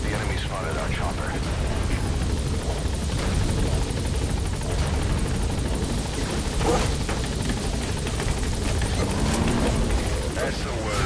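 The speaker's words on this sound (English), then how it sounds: "The enemy spotted our chopper." Support chopper hovering in Metal Gear Solid V: The Phantom Pain, a constant close rotor wash and engine drone that stays loud throughout, with voices talking over it.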